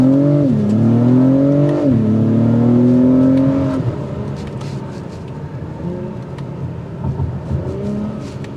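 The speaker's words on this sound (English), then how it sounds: "I like the exhaust note that you get out of the vehicle" A 2023 Acura TLX Type S with 355 horsepower accelerates hard in Sport Plus mode, its exhaust rising in pitch through clear upshifts before settling into a steadier, quieter drone.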